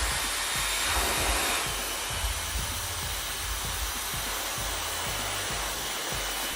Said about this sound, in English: And I'm gonna take my blow dryer and just gonna blow dry the hell out of it